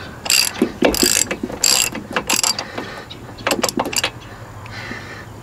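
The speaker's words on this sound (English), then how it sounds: "let's attack that spark plug next" A hand ratchet works a spark plug loose from a VW Type 3 engine, giving crisp, close clicking bursts in short irregular runs with brief pauses between strokes.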